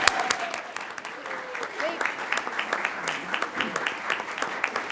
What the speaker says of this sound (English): give her a round of applause, go ahead